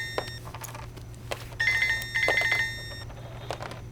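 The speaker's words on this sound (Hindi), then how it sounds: "किसका फोन है?" A telephone rings in short electronic bursts, repeating at a moderate volume over a low background hum with a few faint knocks.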